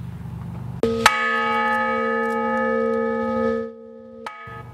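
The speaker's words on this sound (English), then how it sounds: "That's the honor bell, created as a way to honor veterans at their funerals." A single deep strike of a bronze honor bell at a national cemetery veterans' funeral rings out with a long, sustained tone that slowly fades, followed by a second strike near the end.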